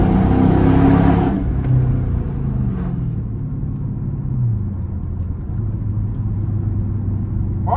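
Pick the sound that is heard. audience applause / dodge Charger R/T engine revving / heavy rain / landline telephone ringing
dodge Charger R/T engine revving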